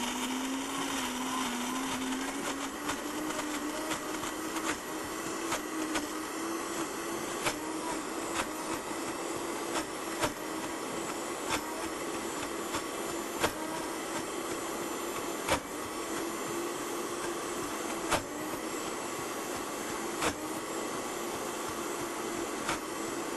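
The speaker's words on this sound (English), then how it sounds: "I'll just push all the nuts into the blender here until it gets creamy." A blender runs continuously at high speed, grinding nuts toward a creamy butter, a loud grinding whir with occasional knocks and rattles as the contents churn, no talking.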